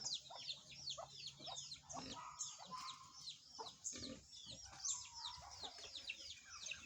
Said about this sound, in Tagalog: may manok pa dito na awayan na yata.